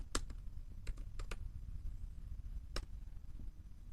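Someone types a command on a computer keyboard in a quiet room, with a few sharp, separate key clicks spread across four seconds and a louder keystroke near the end.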